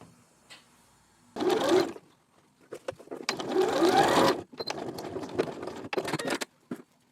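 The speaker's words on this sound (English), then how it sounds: "we're going to start from the hem, we're going to back stitch, sew all the way up to the 16 centimetre line, back stitch and come out" A sewing machine stitches a skirt seam from the hem toward the lap zipper opening, with back-stitching at each end. Bursts of rapid mechanical whirring are separated by short pauses, close and clear.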